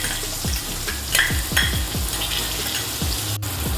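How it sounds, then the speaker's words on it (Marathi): Onion, asafoetida, green chili and curry leaves crackle and spit in hot oil, a busy loud sizzle with quick popping bursts and a few sharp spatters, no voices. "तेल गरम झालेले आहे त्यामध्ये हिंग मिरची आणि कढीपत्ता घालून घेते कांदा घालून घेते"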